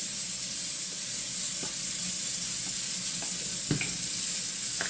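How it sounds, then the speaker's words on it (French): A spoon stirs a sugar, powdered sugar and cinnamon filling for a chicken and almond pastilla, a steady close scraping hiss with a few sharper clinks, no talking. "De bien mélanger."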